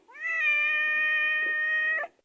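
A cat lets out one long, loud, steady meow lasting about two seconds, close and clear against a quiet background.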